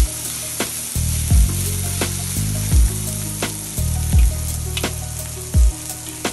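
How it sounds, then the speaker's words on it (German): Noodles sizzling and frying in a pan with onions, ginger and garlic, a steady loud crackle with repeated stirring scrapes and clatters of the utensil against the pan. "könnt ihr die Nudeln nochmal dazugeben und einfach in der Pfanne nochmal anbraten."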